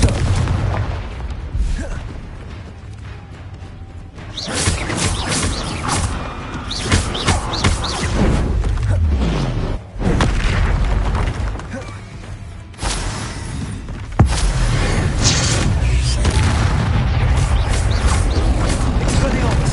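Harry Potter game spells, the Confringo blasting spell among them, go off in heavy booming blasts and crackling bursts that run almost continuously over a steady noisy rumble, with spell incantations called out over the noise.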